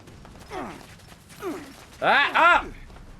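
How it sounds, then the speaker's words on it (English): A fusion core being reloaded in Fallout 76, a mechanical sequence of creaking, ratcheting clunks, with a few scattered movements before a loud double clack near the end. "I was reloading my fusion core on my guy and died."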